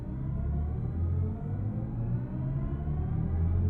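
A BMW i7 electric car launches hard in sport mode with traction control off, giving a steady low rumble of road and drivetrain noise with a rising whir, heard from inside the cabin.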